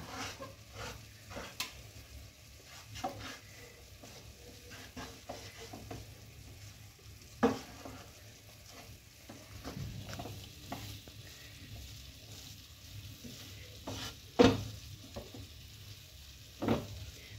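A soft dough of rice flour is stirred in a pan, giving faint scraping and gentle sizzling, with a few sharper knocks of the spoon against the pan scattered throughout.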